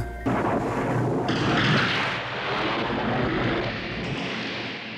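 A sudden loud blast opens into a rolling, roaring rumble of gunfire and explosions that gradually fades toward the end.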